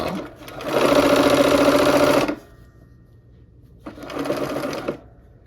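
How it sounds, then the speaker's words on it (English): A sewing machine stitching quilt rows together, two loud close bursts of rapid whirring stitching, the first longer, separated by a short pause. "sew this row together, these rows. And needle down is helpful."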